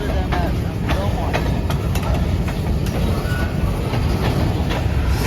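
A BNSF freight train hauling empty grain cars rolls past as a dense, steady rumble with scattered wheel clicks and rattles, continuous throughout at close range.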